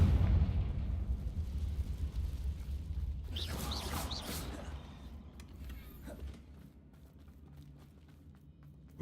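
A Confringo spell in the Hogwarts Legacy video game erupts in a single sharp, crackling blast partway through, rising over a low rumbling background that fades quieter afterward.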